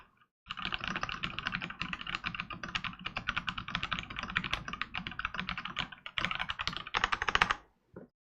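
Fast, continuous typing on a $100 mechanical computer keyboard, a dense, close run of crisp key clicks for several seconds before stopping abruptly, with no voices.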